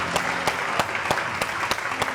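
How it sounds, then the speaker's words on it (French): An audience at a French-language studio show applauds winners of a regional dictation final, a steady patter of clapping punctuated by a few sharp, evenly spaced louder claps. "On les applaudit, s'il vous plaît."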